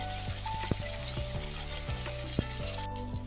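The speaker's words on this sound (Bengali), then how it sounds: "এখন আমি শিমগুলো ওই ফোড়নের তেলের মধ্যে ভেজে নিচ্ছি" Broad beans fry in panch phoron tempering oil, a loud, steady close-up sizzle and crackle with occasional sharp ticks of stirring against the pan throughout.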